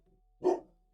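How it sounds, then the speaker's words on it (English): A single dog bark outdoors at night, one short muffled "oof" that sounds somewhat distant against a quiet background. "Yeah, it's a dog barking."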